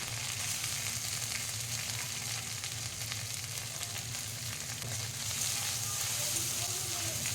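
Chopped tomato with ginger paste frying in oil in a pan, a steady low sizzle with light crackle running evenly throughout, no voices.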